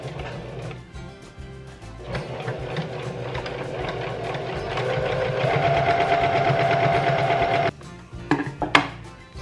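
Sewing machine stitching close along the rolled edge of a woven cotton bathmat, a loud rapid mechanical chatter that speeds up, then halts abruptly, leaving a few clunks.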